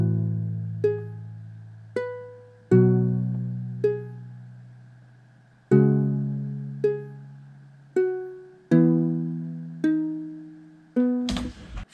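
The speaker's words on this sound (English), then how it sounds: "So I have a pattern with the guitar that I made right here." Lo-fi guitar melody pattern of plucked notes that ring out and decay, played in a slow, spaced rhythm, clean and close, ending with a brief burst of noise.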